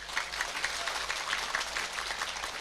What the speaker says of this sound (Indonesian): Tepuk tangan untuk Pak Polisi.